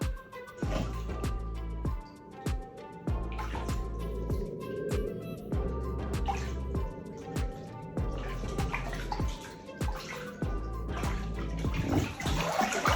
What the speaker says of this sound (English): Thoroughly but gently washing your scalp.